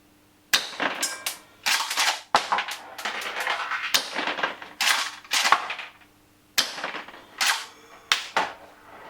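An HKOTG PPS shell-ejecting airsoft shotgun fires with loud, sharp cracks and metallic clacks that come in quick bursts, roughly a dozen sharp hits over nine seconds, with no talking.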